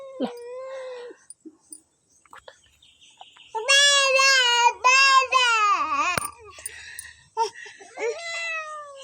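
A house cat gives several loud, drawn-out meows close by, some wavering and plaintive, in bursts with short pauses, and a voice is heard at times.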